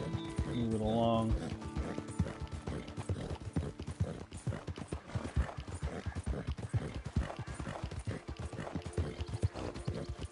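A horse trots in Red Dead Redemption 2, steady clip-clopping hooves in a brisk rhythm throughout, with a short whinny near the start and game ambience underneath.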